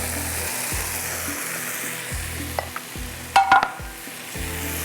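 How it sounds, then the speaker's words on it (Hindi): Brinjal and masala frying in a pan, a steady close sizzle with a few sharper clatters and scrapes of a utensil near the end. "चलो जी, अब ये बैंगन और मसाला डाल रहा है।"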